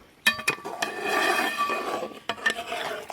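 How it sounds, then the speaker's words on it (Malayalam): A spoon clinks against a pot while chicken and jackfruit biryani is mixed, with sharp metallic knocks at the start and end and a scraping, rustling stir in between. "അപ്പോഴേ നമുക്ക് ചിക്കനും ചക്കയും കൂടെ നന്നായിട്ട് മിക്സ് ചെയ്യണം കേട്ടോ"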